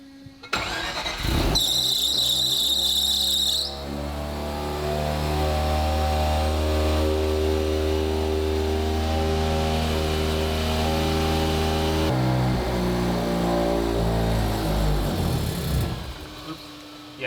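A boosted rotary engine in a Corvette catches and settles into a steady, buzzy idle with a brief high whine early on, running evenly at close range before a short dip and recovery.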